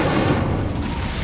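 A fire spell, Incendio, is cast in the Hogwarts Legacy video game: a loud, dense burst of flame with a heavy rumbling roar that holds steady for about a second.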